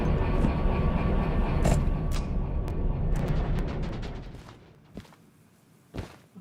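Freight train in the railway game Derail Valley rumbles along with a heavy, steady roar that fades away, followed by a few sharp clanks near the end.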